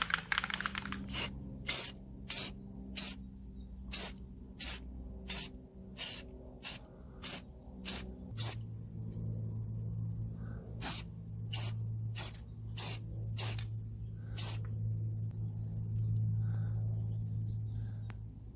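Paint is sprayed onto a custom exhaust for a Moto Guzzi 850 cafe racer in a run of short, sharp hissing bursts, close and loud. A steady low hum sets in partway through and continues under the later bursts.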